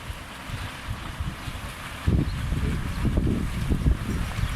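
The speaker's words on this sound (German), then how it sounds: "So, der Wind dreht immer mehr auf." Strong wind buffets the microphone with a constant roaring rush, gusting harder partway through, with a faint watery splashing underneath, at a 420-class sailing regatta shortly before the start.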